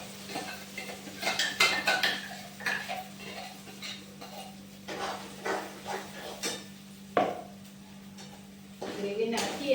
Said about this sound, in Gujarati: ગ્રેવી નાખી અને હલાવી દઈએ